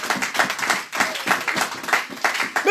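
A church congregation clapping to acclaim the Lord: close, steady rhythmic handclaps in a quick regular beat, continuing without a break.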